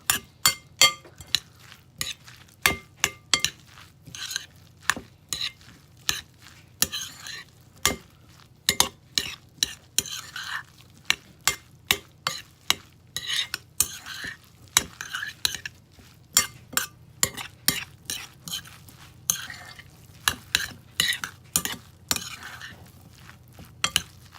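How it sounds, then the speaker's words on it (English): A cauliflower pizza crust mixture is stirred in a bowl, with repeated sharp clinks and scrapes of a utensil against the bowl in an irregular rhythm, close and fairly quiet, with no talking. "try to mix everything together at first"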